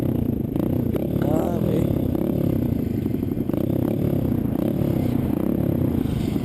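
A pit bike motorcycle takes off nearby, its small engine revving in a loud, steady drone mixed with clattering and scraping, with no speech over it.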